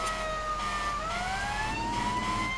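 An emergency vehicle siren wails in a slow rising and falling tone through traffic, steady and moderately loud with engine rumble beneath and no speech.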